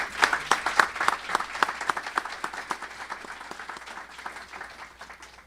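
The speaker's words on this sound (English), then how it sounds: "Can we have another round of applause for Sean?" Applause from a conference audience honoring a presenter after summary findings on LGBTQ+ people in Massachusetts, moderate and fairly close, made of distinct sharp claps at first that thin into a softer patter.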